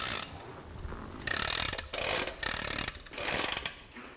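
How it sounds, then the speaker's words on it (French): A clockmaker winding the clocks at the Palace of Versailles, a key cranking a mechanism in bursts of rapid ratcheting clicks separated by short pauses, close and alone without talk. "Tous les lundis, je suis là pour remonter les horloges."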